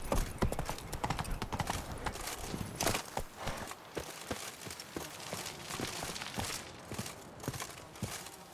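Horse hooves clip-clop rapidly on the ground in The Witcher 3, a dense, steady galloping rhythm heard up close with an occasional faint whinny and some background game ambience.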